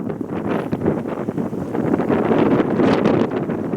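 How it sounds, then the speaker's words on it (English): Strong wind at the front of the Carnival Sensation cruise ship, a loud, continuous rushing buffet with gusty surges and heavy microphone rumble, and no voices over it. "You're in the front of the ship where it is very windy."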